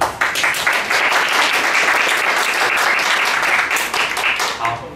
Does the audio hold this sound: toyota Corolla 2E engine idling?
no